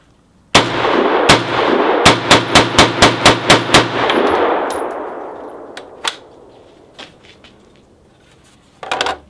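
A Kel-Tec PMR30 pistol fires a rapid string of about a dozen loud sharp shots outdoors, each cracking with a ringing metallic clang, followed by a few scattered clinks and a final burst of noise.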